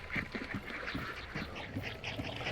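Ducks quacking in the video game Gunpowder and Regret, a flock giving repeated nasal quacks in an uneven rhythm at moderate distance, with no speech.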